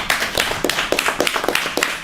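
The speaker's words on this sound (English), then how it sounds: "Can we have one more round of applause for this panel?" An audience at a design symposium applauds a panel, producing steady, fairly close clapping from many hands that carries on evenly for about two seconds with no voices over it.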